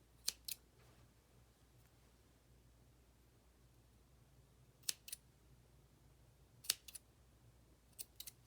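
Scissors trimming a yarn pom pom chick, a few short, crisp snips in scattered pairs, close and quiet, separated by long stretches of faint room hiss.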